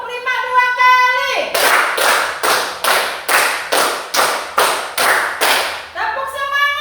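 A group claps in unison, eleven sharp, evenly spaced claps, loud and close, with chanted voices just before and after.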